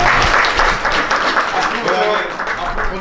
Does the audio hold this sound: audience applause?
yes